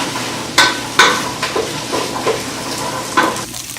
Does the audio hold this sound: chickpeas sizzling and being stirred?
yes